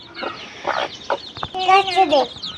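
Chickens cluck in short bursts nearby, with a few louder squawking calls toward the end.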